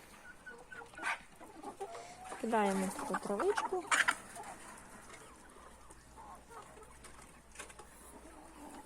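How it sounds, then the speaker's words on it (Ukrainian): Chickens bred from a home flock cluck and squawk in a small family farmyard, a busy burst of close fowl calls in the middle, while someone talks over them. "Це із власного виводку кури."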